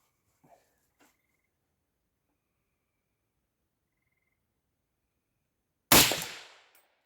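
A single loud, close gunshot from an AK-47 SBR firing full metal jacket handloads at level 4 body armor cracks out after several seconds of near silence, preceded only by a couple of faint clicks.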